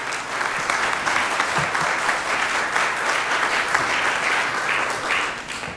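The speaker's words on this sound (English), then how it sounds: "let's give Senator Al Franken a nice round of applause" A briefing audience gives Senator Al Franken a sustained round of applause. It sounds dense and even, with the clapping holding steady throughout and no voices over it.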